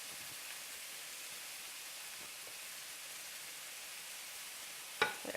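Minced beef browning with onion and garlic in a pan, a steady faint broadband sizzle running throughout, with a brief sharp clatter near the end.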